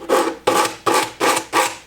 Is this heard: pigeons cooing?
no